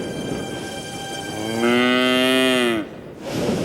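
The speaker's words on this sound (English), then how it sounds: "But it was just a cow in the field." A cow moos in a field, a single long, loud bellow that swells midway and breaks off abruptly, followed by quiet ambient noise.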